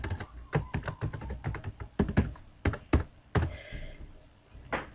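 Computer keyboard keys clatter in irregular bursts as a username and password are typed at a login page, close and fairly quiet with short pauses between keystrokes.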